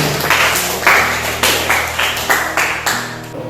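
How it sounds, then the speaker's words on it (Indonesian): A classroom of students claps for a classmate in a steady rhythmic pattern of sharp, evenly spaced bursts, close and moderately loud. "Tepuk tangan untuk Nurbaiti."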